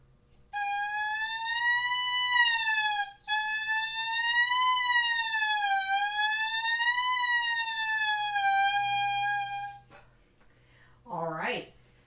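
A single voice imitates an ambulance siren as a vocal warm-up exercise, a smooth rising and falling wail sustained for several seconds, briefly broken, then resumed, ending with a short spoken comment.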